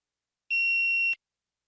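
A single steady electronic beep, clean and tonal, lasting about two-thirds of a second in a quiet setting during an English speaking test's preparation prompt.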